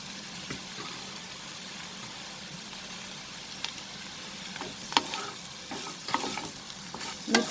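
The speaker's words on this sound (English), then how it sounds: "After sauteing it for a minute, we will add the paneer or the cottage cheese." Paneer cubes sautéing in a pan, a steady sizzle broken by spoon stirs and scrapes that grow louder and more frequent toward the end. No one speaks.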